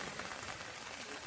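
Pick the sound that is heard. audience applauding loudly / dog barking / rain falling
rain falling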